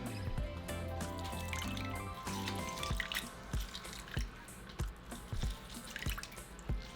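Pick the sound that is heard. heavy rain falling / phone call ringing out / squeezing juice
squeezing juice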